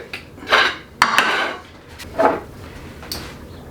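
Metal parts of a meat grinder being fitted together for grinding pork sausage: a few sharp clanks and clicks, spaced irregularly, close and fairly loud with quiet gaps between.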